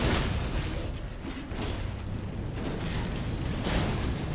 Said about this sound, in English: That's the explosion, okay.